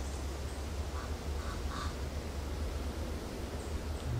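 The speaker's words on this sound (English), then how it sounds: "Jamaican crow." Jamaican crow giving a few faint, distant nasal calls outdoors on an afternoon hike, short croaking notes spaced apart over steady wind and low background noise, no talking.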